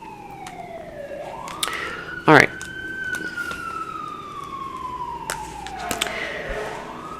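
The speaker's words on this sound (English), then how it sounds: "Excuse the ambulance noise." An ambulance siren wails steadily and rises and falls in pitch as it passes in the street, heard faintly from indoors under a brief spoken remark.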